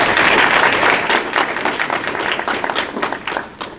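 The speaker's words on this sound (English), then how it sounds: "let's give Mr. Doug Lehman a hand for being here today" An audience at a disability awareness training event breaks into steady applause, a dense, loud patter of many hands that gradually thins into scattered claps.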